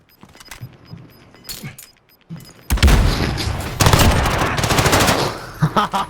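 Silenced gunfire in a video game comes as a dense, rapid volley of suppressed shots that starts abruptly after a few quiet clicks and thumps, then continues loud and close for several seconds.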